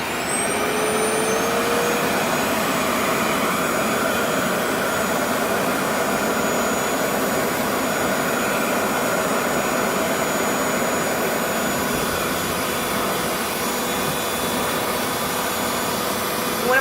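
Revair reverse-air hair dryer running on curly hair, a constant loud vacuum-like whooshing roar with a faint high whine, unbroken from start to finish with no voices.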